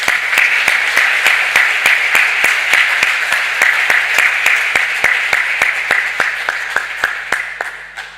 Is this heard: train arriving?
no